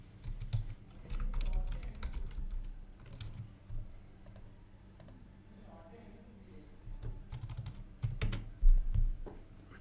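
Test card details are being typed on a computer keyboard as a stream of light key clicks in short bursts, partly under a voice talking and other quiet background sounds.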